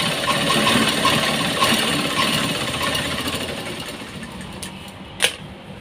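An electric sewing machine stitches the back panel of a blouse with a steady, close mechanical whir that eases off toward the end, followed by a sharp click.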